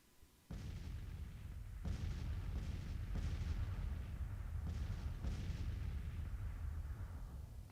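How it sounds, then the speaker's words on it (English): Civil War battle in the Grand Tactician strategy game: a rolling barrage of artillery booms and musket fire, several distinct heavy thuds over a continuous rumbling din, with no talk. "but there's still some shooting going on."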